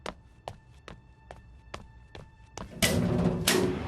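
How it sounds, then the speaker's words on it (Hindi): Knocking on a door in a Turkish drama scene: a steady series of about seven sharp, evenly spaced knocks, close and distinct, followed by a louder burst of rustling noise. "आज तो दरवाजा बजे ही जा रहा है।"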